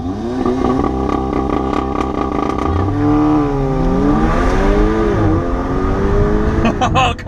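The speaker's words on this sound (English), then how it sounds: "here we go, lining up to the line in the M140i" A BMW M140i launches off the line in a drag race against an Audi S3, its engine roaring loud and close, revs climbing, dipping at gear changes and climbing again.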